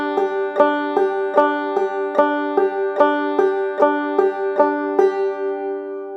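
Banjo played clawhammer style in double C tuning, a steady eighth-note double-thumbing pattern of even downstrokes and upstrokes, bright plucked notes repeating in an even rhythm, close and clear with no voices.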